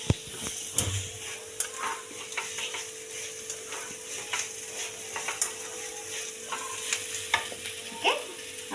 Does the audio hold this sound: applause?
no